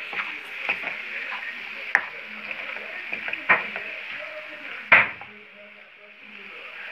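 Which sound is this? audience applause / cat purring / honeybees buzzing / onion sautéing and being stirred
onion sautéing and being stirred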